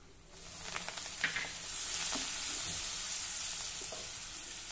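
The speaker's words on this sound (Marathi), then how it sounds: "हे बघा, लसूण हलक्या तांबूस रंगावर परतून झाला।" Garlic and turmeric frying in a pan, giving a soft, steady sizzle and hiss close by, with a few faint stirring scrapes early on and no voices.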